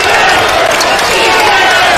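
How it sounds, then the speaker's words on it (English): Dense, loud roar of a crowd cheering at a men's college basketball game in an arena, IPFW versus Longwood, steady and unbroken throughout with voices mixed in the din. "Crowd really getting into it now."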